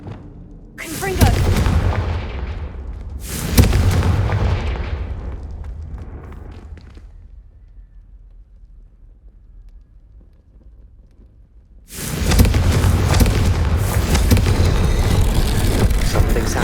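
Confringo spell explosions in the video game Hogwarts Legacy: two sharp booming blasts close together, each decaying into a rumbling tail, followed by quiet and then a sustained loud roaring burst.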